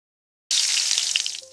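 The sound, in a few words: prawns frying in hot oil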